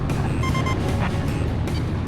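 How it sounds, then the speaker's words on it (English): A loud, steady jet engine roar from the video game Ace Combat 5: The Unsung War, with a low rumbling drone and faint higher whine, continuous and unbroken, like a jet passing close by. "I just heard another jet engine."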